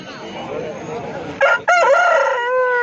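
At a Sunday chicken market in Pileru, an aseel rooster crows loud and close in a long harmonic call that breaks briefly midway, following a stretch of murmuring voices and clucking.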